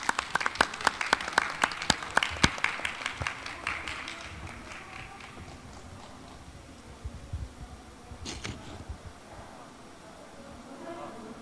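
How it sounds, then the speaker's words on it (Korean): An audience at the COMEUP 2021 startup showcase applauds loudly for several seconds with dense, sharp claps, then the clapping thins and fades while a voice speaks over the hall. "박수 부탁드립니다."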